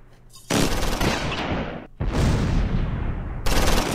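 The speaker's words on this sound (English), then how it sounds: "Now let's see how that artillery comes in." Artillery and gunfire in the World War II strategy game Close Combat IV, set in a winter Battle of the Bulge attack: loud, dense bursts of shooting and explosions in two long volleys split by a short gap.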